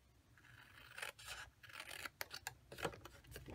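Scissors snipping through paper for a milk carton box, with a series of quiet close rasping cuts in short irregular strokes and brief gaps between them.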